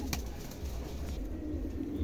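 A pair of Andalusian fantail pigeons coo softly and low, with a brief sharp flutter near the start, heard faint and close against a light background hum.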